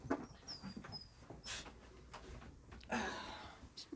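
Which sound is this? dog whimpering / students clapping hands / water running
dog whimpering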